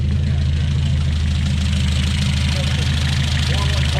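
A 1969 Opel GT with automatic transmission, cold air intake, new points and a custom exhaust idles steadily and loudly close by, a deep continuous rumble with a slight knocking texture.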